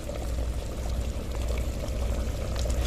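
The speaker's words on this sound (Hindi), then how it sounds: "घी जो है ये डाल देते हैं अब इसमें" Ghee is poured into a cooking pot of food being sautéed, giving a soft, steady close pouring and sizzling hiss with a low rumble underneath, heard alone without talk.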